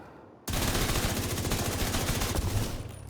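Rapid automatic gunfire from weapons in the Division 2 video game, a dense sustained burst that bursts in suddenly after near-silence and runs loud for about two and a half seconds before easing.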